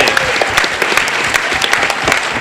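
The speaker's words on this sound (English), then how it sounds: "Big round of applause." Loud, dense audience applause at a BronyCon convention panel, continuous clapping filling the room with scattered whoops, close and sustained.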